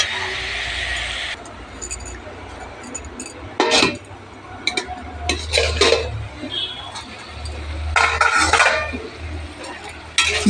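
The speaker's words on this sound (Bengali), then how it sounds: "আবারও নেড়ে চেড়ে চাপা দিয়ে দেবো লাল শাকের ঘন্ট" Red spinach ghonto being stirred in a pan, with intermittent metallic scrapes and clinks of a spatula against the pan amid a low background hum and brief pauses.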